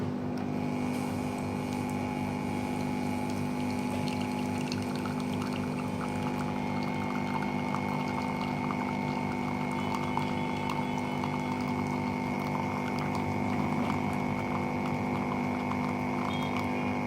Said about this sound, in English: It will go into a auto clean mode, as you can see. So it will clean the coffee system first.